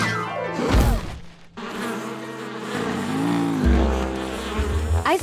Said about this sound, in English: The bees are protecting their home.